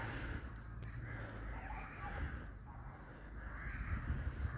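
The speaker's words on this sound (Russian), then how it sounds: "Это что за птички?" Crows cawing outdoors on a winter walk in Grozny, faint calls over a soft background hiss from the open air, with no one speaking.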